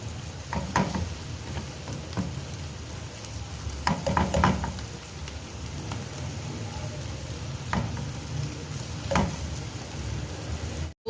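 Tomatoes sauté in a pan for goat brain masala, a constant close sizzle with scattered crackles and occasional clinks of a stirring spoon, steady throughout without speech.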